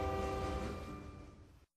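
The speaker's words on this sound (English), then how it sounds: "This train's a-leaving. Come aboard." A train horn sounds as part of a community radio station jingle, a sustained chord of steady horn tones over low rumbling rail noise that holds loud, then fades and cuts off cleanly.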